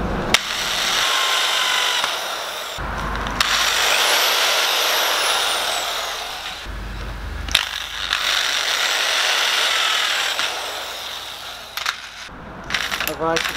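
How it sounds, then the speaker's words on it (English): A power drill boring a pilot hole in metal while building a camera swing boom arm, whirring steadily for several seconds, pausing, then running again, with clicks and small metallic clatters near the end. "we're just drilling a pilot hole at the moment."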